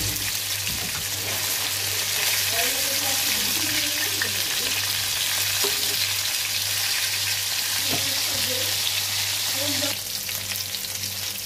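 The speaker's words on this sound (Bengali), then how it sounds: "এখন মাছগুলো ভাজবো।" Fish frying in hot oil in a home kitchen makes a steady, close sizzle that runs unbroken for about twelve seconds, with no voices over it.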